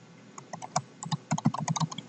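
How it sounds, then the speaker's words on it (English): A password is being typed on a computer keyboard: crisp, close key clicks come in an uneven burst that speeds up toward the end, with no talking. "type in my password"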